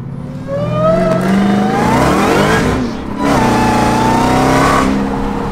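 Close and loud, a 1,000hp Dodge Demon Charger engine revs and accelerates, the pitch climbing through the gears with a brief dip before surging again.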